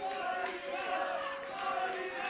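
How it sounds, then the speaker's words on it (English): Crowd noise from a wrestling video game fills the arena steadily as a broad, even roar with a low rhythmic pulse beneath it, sustained at moderate level without a break. "listen to the crowd. They're enjoying what Funnybone is doing to the young champion."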